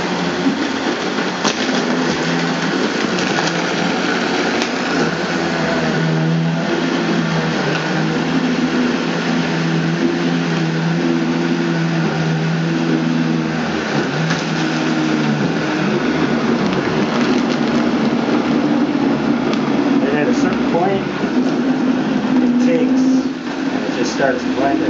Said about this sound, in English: So at this point, I'm going to crank it up on high for about a minute.